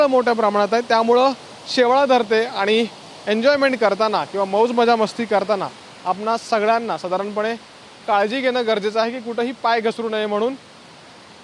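Nivendi waterfall in Ratnagiri, Konkan, gives a soft, continuous rush of falling water that sits low beneath someone talking almost without pause.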